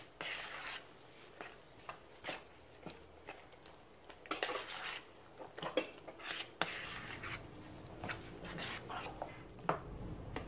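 Zucchini cake batter gently stirred in a bowl before baking, giving soft scraping and knocking strokes at an irregular pace, close and fairly quiet.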